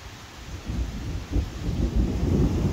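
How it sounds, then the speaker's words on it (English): Rumbling thunder rolls through a late-night lightning storm while steady rain falls, the deep booms swelling and building over the constant hiss of the downpour. "Oh my gosh, lightning storm."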